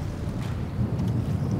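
Crosswind gusting across a large lake during predator fishing from a boat, a steady low roaring rumble buffeting the microphone with slight surges, with no voices.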